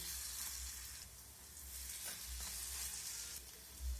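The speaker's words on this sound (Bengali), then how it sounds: "এক পাশটা সেট হয়ে গেলে অন্য পাশটা ভাজার জন্য উল্টে দেব" Egg-and-semolina-coated bread slices frying in a pan, giving a soft, even, continuous sizzle at low level with a faint low hum beneath, no voices.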